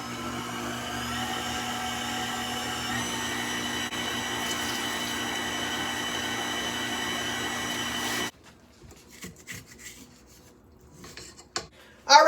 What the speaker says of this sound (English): we're going to mix all these together on medium speed until they're well combined